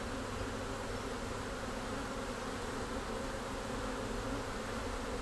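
A swarm of honeybees buzzes in a dense, steady drone that fills the whole stretch without a break, close and fairly loud, with no voices over it.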